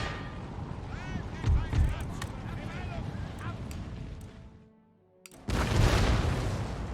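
Artillery fire in an Empire: Total War siege as Prussia, with dull booming cannon shots amid battlefield clamour and chirpy effects, a short near-silent lull, then a loud broad roar of renewed fire.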